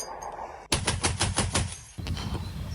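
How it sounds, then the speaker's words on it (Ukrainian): A heavy American Browning machine gun fires two loud bursts of rapid, evenly spaced shots, close up, with a brief pause between them. "працювали із крупнокаліберного американського кулемета Браунінг"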